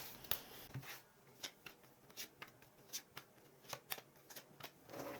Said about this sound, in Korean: 앞으로의 미래 테마 카드를 뽑아볼게요